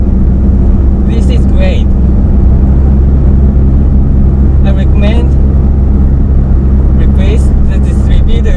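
Idling Nissan K11 engine and exhaust, running with a new distributor fitted, give a steady low rumble throughout while someone talks over it.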